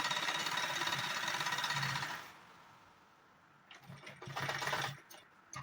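A sewing machine runs a stitching line on a saree belt, a steady motorised chatter for about two seconds that stops, then starts again in two short bursts.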